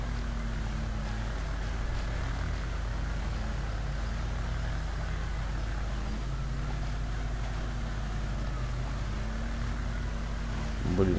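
A Polaris vehicle driving in the Spin Tires video game, a steady loud engine drone with shifting harmonic tones, held at one level throughout under faint background noise.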